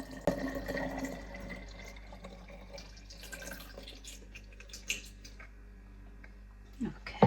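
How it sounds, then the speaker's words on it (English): Elderflower cordial syrup is poured into bottles at home, a faint trickling and dripping of liquid with soft glass clinks, quiet throughout with a sharper knock near the end. "So I'm just going to pour the syrup in, the cordial."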